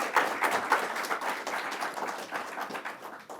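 Audience applause at a state governor's initiative announcement, a full crowd clapping steadily and fairly loud, with clustered sharp claps throughout and no voices.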